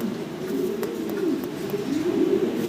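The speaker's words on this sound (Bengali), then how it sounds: "এটা অ্যান্থ্রপ বলে অ্যান্থ্রপ কবুতর দেখতে পারতেছেন" Fancy pigeons cooing close by, a low soft burbling coo repeating continuously with faint rustling in the background.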